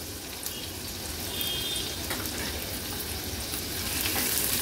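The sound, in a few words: garlic and chopped onion frying in oil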